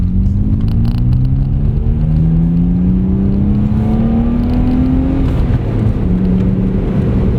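A car engine revs up hard, its pitch climbing steadily as it accelerates, loud and close with a rumbling exhaust, followed by a brief shift and continued pull.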